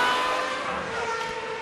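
SuperLeague Formula race cars at Donington Park powering out of Goddards, with a loud, close, high-pitched engine wail that drops slightly in pitch as the cars accelerate.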